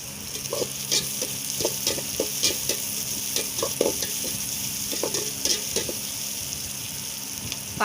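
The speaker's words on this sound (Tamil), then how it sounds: "வெங்காயம் நல்லா வதங்கினோடனே தக்காளி சேர்த்துக்கோங்க" Onions and tomatoes sautéing in a pan for sambar, with steady sizzling and frequent scraping stirs at close range and no talk.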